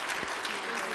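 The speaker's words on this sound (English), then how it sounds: "So, round of applause." A crowd claps steadily at an awards ceremony, a brief dense patter of applause heard from within the room.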